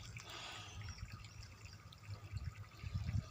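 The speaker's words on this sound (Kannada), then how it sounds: "ಈ ಥರ ನೀರು ಕುಪ್ಪಿಸ್ತಾ ಇದೆ ನಮ್ಮ ಪೈಪ್ನಾಗೆ" Water sputters and gurgles through a bore-well pump pipe, a steady wet splashing with low rumbling surges that grow heavier toward the end.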